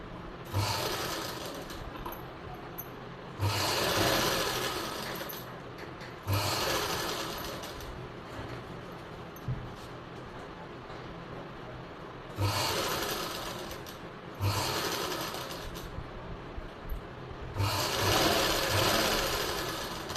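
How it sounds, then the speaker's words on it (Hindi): Stitching a sleeve onto a blouse, a sewing machine whirs up close in several separate runs of a few seconds each, split by short quiet gaps. "तो यहाँ से हम यहाँ तक सिलाई लगाएंगे पहले।"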